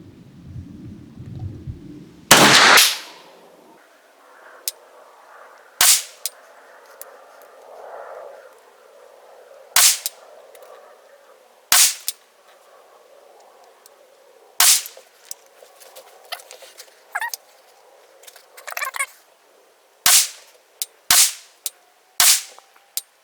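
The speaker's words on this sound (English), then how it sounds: "in the upper right target, we'll be shooting the Sig Elite Performance 115 grain." A Jard J68 pistol-caliber bullpup carbine firing Sig Elite Performance 115 grain ammunition at a range, about a dozen sharp, loud shots spaced irregularly a few seconds apart, each with a short ringing tail.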